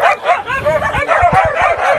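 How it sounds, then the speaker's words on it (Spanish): A large pack of dogs barks and yips at once, loud and close, overlapping in a continuous chorus with some sharp short barks cutting through. "Son muchísimos los perros."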